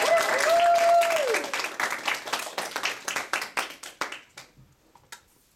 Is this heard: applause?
yes